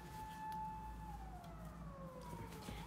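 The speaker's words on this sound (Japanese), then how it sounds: "あ、ちょ、間違えた、パトカーか。" A police car siren wails steadily in the distance, its tone sliding slowly downward as it passes, over a low background rumble.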